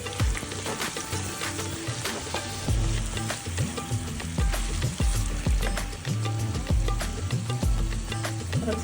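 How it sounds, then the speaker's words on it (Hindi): Spices of salt, black pepper and red chili powder frying in a pan for chicken 65, giving a steady close sizzle broken by repeated scraping stirs, with no voices. "और इन सभी चीज़ों को फ्राई करते हुए इसमें चले जाएंगे मसाले।"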